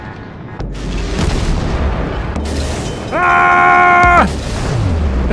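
Ship guns fire in the naval video game World of Warships, with loud booming blasts and a sustained mechanical tone, while a voice exclaims briefly.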